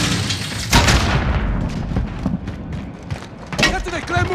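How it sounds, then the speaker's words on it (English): A grenade goes off in Call of Duty Modern Warfare, a heavy booming blast followed by a rumbling tail. A second sharp burst comes near the end, among scattered gunfire. "Grenade out."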